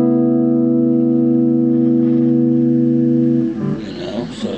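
Electric guitar played through a Peavey Bandit 112 combo amp on its distortion channel with reverb, sustained loud chord ringing for over three seconds, then a burst of gritty, busier playing with a reverb tail.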